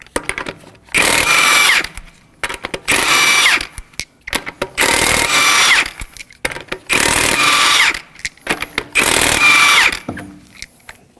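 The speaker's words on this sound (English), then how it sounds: "we're going to remove the lug nuts with a 19mm socket and your" An impact gun with a 19mm socket removes lug nuts from the front right wheel of a 2014-2020 Acura MDX, making five loud bursts of rattling hammering, each about a second long, separated by short pauses.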